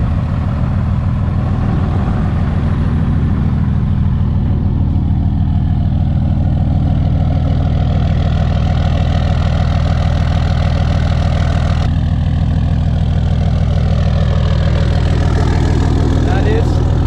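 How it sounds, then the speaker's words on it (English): A 6.7 Cummins diesel engine in a 2500 pickup with a Fleece Cheetah turbo and 5-inch turbo-back exhaust idles steadily and loudly close by, a constant low rumble with a faint rattle throughout. "That is 5-inch exhaust turbo back on a factory 2500 airbag truck."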